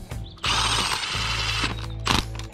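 A ratchet tightens engine cylinder head bolts, a loud, close, rapid ratcheting burst lasting over a second, then a brief pause and a shorter second burst.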